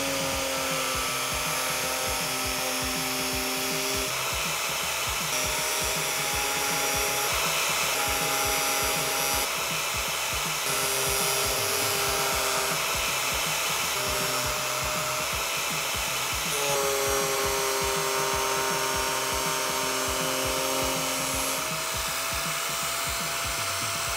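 A power tool cuts and grinds through a Toyota Sequoia rear bumper during a custom bumper build with swing arms, a loud, continuous whine that holds steady while its pitch drifts with load, running alone for the whole stretch.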